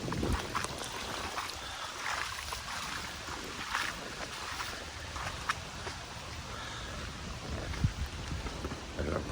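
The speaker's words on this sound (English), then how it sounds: "And by the way, it's still raining here." Steady Hurricane Sally rain pours down on a flooded nature preserve in a constant broadband hiss, with scattered heavier drops and splashes standing out now and then. No voices.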